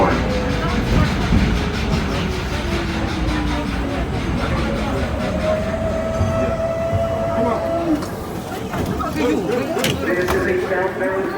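A New York City Subway R32 car runs on a southbound D express train, with a heavy rolling rumble, rattling and clanking mechanisms, and drawn-out motor whines that glide in pitch. Sharper metallic clatter comes in near the end.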